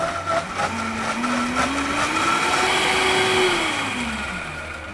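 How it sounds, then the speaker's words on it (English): A Vitamix blender whirs through chimichurri sauce ingredients including fresh garlic, sea salt and hot sauce, its motor pitch rising steadily and then dipping slightly, loud and continuous throughout with no talking. "All right, everything's in the Vitamix,"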